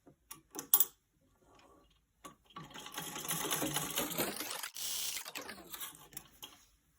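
A sewing machine hems fabric, starting with a few short clicks, then running in a fairly quiet sustained mechanical whir with brief stops and starts, heard close up and on its own.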